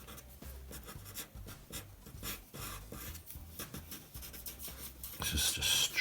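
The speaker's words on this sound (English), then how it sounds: "we're gonna just quickly sketch whatever comes" Derwent watercolor pencil sketching on paper: quick, continuous scratchy strokes with rapid back-and-forth rubbing, close and fairly quiet, growing briefly brighter and harsher near the end.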